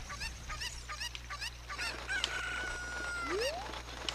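A game chicken in Zelda: Ocarina of Time Master Quest on the N64 gives repeated short, close clucks and squawks, ending in a rising cry, over a steady low hum.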